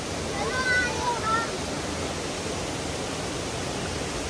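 Steady, loud rush of a waterfall close by, a broad unbroken roar of falling water with a few faint voices and whistles briefly audible over it.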